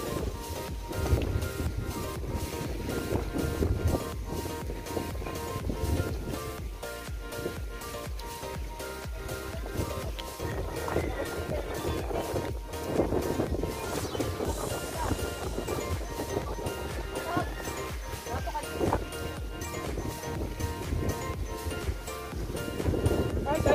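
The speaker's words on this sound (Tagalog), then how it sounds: "So hangin kayo dere guys." Strong sea wind buffets the microphone near the shore, a constant loud rushing roar with gusty bursts throughout, while voices talk intermittently under it.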